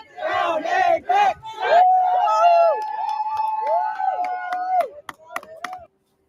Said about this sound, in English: They all cheer for each other after that.